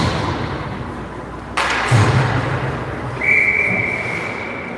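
A referee's whistle at an ice hockey game, during a third-period stoppage after the net comes off, gives one sustained, fairly loud blast over arena crowd noise, following a dull thud.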